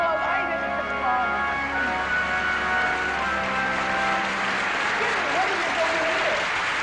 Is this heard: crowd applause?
yes